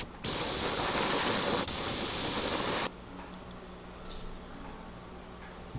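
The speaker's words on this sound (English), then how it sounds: "we're gonna spray some pearl white over everything" An airbrush sprays pearl white paint onto an arowana swimbait in a loud, steady hiss lasting about two and a half seconds, then cuts off, leaving quiet room tone with small handling sounds.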